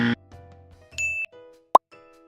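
A Huawei Nova 4 or Google Pixel 3 phone set down on a wireless charging base gives one short, bright chime near the end, after soft handling noises and a brief higher tone. No one speaks.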